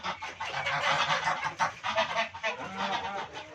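Geese at a bird market honk loudly and continuously, a dense, overlapping chorus of harsh calls with no pause.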